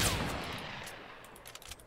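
Gunfire in the video game Fortnite: Battle Royale, a sharp shot at the start trailing off, then a rapid burst of distant cracks near the end, fairly quiet overall.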